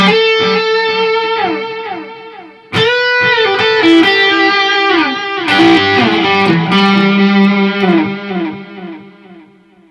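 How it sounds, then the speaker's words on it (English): An electric guitar plays sustained chords and single notes through an amp with a distortion pedal engaged, loud and close, with a sharp strum burst partway through and no talking. "now we can kick in some distortion"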